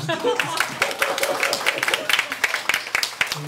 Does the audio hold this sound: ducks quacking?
no